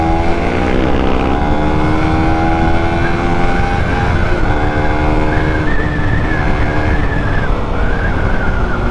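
Suzuki Raider 150 F.I. motorcycle riding at speed, a steady loud engine drone with rising and falling pitch as it revs through gears, constant wind rush underneath, no talk.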